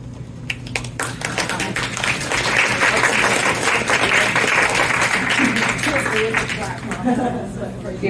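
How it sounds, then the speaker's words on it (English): A seated audience at a conference panel applauds steadily for several seconds, with dense clapping spread across the whole span alongside a low hum and some murmuring voices underneath. "Feels weird to clap, exactly."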